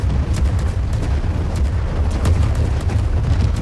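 Ship cannons fire in Worlds Adrift, a rapid run of heavy booming shots rolling one into the next, loud and continuous, with no talk over them.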